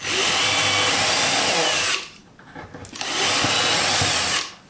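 A DeWalt Atomic brushless drill driving screws while mounting a French cleat: two loud, sustained whining bursts of about two seconds each, separated by a short quiet gap.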